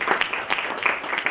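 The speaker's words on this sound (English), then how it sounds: "Let's give him a round of applause." An audience applauds during a speech-club meeting: a short, brisk burst of clapping of moderate loudness with no other sound over it.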